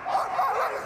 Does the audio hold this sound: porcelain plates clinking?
no